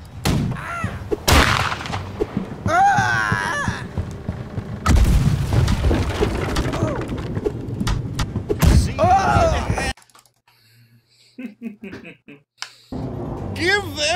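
Ship cannons in the Blackwake naval combat game fire a broadside as several heavy booms at intervals, mixed with shouting crew voices and a brief quiet gap near the end.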